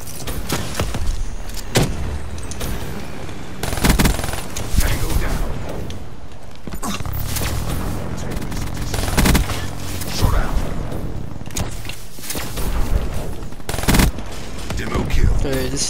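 Rapid gunfire bursts from the 48 Dredge in Black Ops 3 gameplay, repeated loud volleys and booms over constant game noise, with people talking throughout.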